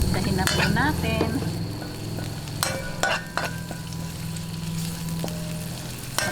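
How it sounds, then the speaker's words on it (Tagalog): Pork belly and garlic sizzle loudly in a hot pan during sautéing, a steady frying hiss with stirring scrapes and clinks of a utensil against the pan. "ngayon umpisahan na po natin yung paggigisa"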